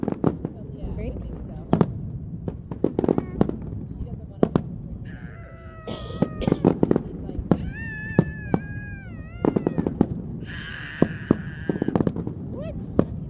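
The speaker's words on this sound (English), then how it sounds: "Happy fireworks." Fourth of July fireworks at a Phillies ballpark display, with repeated sharp bangs and crackles scattered through the scene, mixed with cat-like whistles and crowd voices and people talking nearby.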